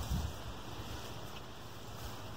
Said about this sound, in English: because it's really, really windy